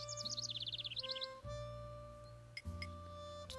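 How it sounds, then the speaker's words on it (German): Human-voiced pigeon cooing in a video game, a quick rapid run of soft warbling coos at the start over a steady electronic game hum, then fading into ambient tones. "dass die Taube von einem Menschen vertont wurde"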